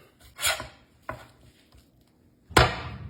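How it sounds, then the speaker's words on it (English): A knife chops through bacon on a cutting board in three separate sharp strokes with pauses between them, close and fairly loud, and nobody speaks. "Let's chop some bacon."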